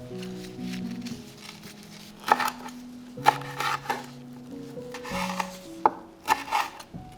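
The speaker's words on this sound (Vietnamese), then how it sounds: "Ớt sừng thì mình cắt sợi để trang trí ha." A knife cuts a red horn chili pepper into thin strips on a board for a Thai-style beef salad garnish, with soft rubbing and scraping strokes in small clusters over quiet background music.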